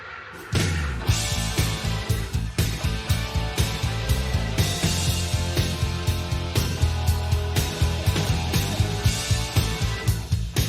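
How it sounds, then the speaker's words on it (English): A Hammond organ plays in a rock song, with sustained chords over steady, punchy drum hits and full band backing, loud and continuous throughout. "I think it's pretty fair to say that that was actually a Hammond"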